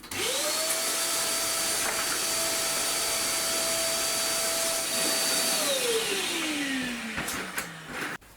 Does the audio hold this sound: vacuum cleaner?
yes